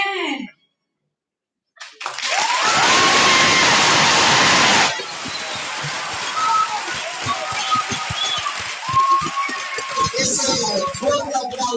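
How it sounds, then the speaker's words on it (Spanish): Loud applause and cheering from a school talent-show audience after an Aqua "Barbie Girl" impersonation, a dense wash of clapping that swells for a few seconds then settles into scattered claps and crowd noise with voices. "Ese fuerte aplauso para Aqua con su interpretación de Barbie Girl."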